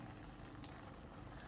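Milk boiling in a pan on the stove, ready for wheat flour to be added for a risoles filling: a soft, quiet bubbling and gentle simmering texture, continuous and close, with no talking.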